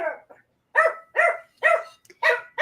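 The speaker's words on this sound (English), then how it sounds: "we've got Tummy barking." A dog named Tummy barks indoors in five sharp, evenly spaced barks, moderately close, each short and bright with pauses between, no talk over them.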